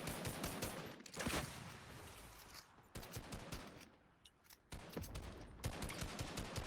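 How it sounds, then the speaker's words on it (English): Rapid bursts of gunfire in a Fortnite college esports match, dense clattering volleys recurring throughout with brief pauses between exchanges. "Shots are being fired."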